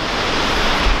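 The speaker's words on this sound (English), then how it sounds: "That's an impressive waterfall." Skógafoss waterfall in Iceland roars with spray as a dense, continuous wash of noise, loud and close, with no voices.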